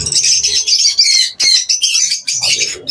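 Budgerigars chirp in a bird shop, a dense, continuous stream of bright overlapping tweets and squawks from many birds close by, with no pauses.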